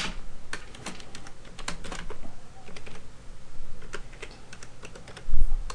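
Someone types a password twice on a computer keyboard while setting up Windows Server 2008 R2. Quick, close-up clusters of key clicks arrive in uneven bursts, with one heavier thump near the end, like the Enter key.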